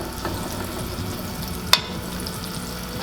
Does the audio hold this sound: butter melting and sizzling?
yes